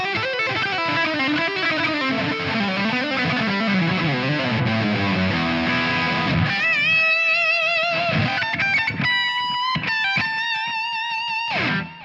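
An electric guitar plays a full-blown lead tone through a Quad Cortex, loud and saturated with sustained, bending notes, then a faster melodic phrase with quick note changes before cutting off at the end.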